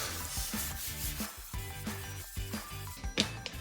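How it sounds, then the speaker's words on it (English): Sandpaper rubbing over a painted bathroom wall before painting, a steady loud rasping in repeated back-and-forth strokes, close and alone. "This will just rough up the surface and knock down any tiny bumps we have on the wall."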